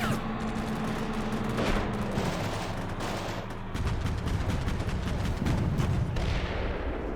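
Gunfire in the war game Combat Mission Shock Force 2 during a battle for a hospital: dense, continuous bursts of rifle and machine-gun fire with heavier booms, loud and sustained throughout.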